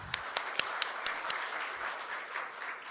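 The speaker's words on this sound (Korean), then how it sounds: "여러분 큰 박수로 환영해 주시기 바랍니다" A seminar audience on international dangerous-goods transport welcomes committee chairman Kim Byung-joon with faint, scattered claps, a handful of distinct hand strikes early on before they trail off into quiet room noise.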